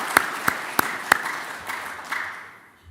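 A church congregation applauding the choir after a Sunday service hymn, a few sharp, loud claps followed by a softer, fading patter of scattered clapping.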